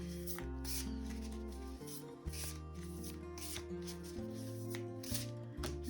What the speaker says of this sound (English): let's do a little bit of a shuffle and pull a card